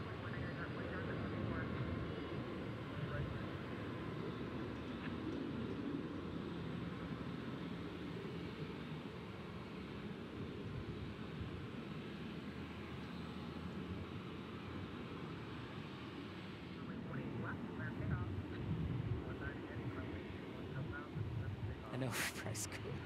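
An airliner landing at Dallas/Fort Worth airport, a steady broad engine roar held throughout at moderate distance, with people talking over it.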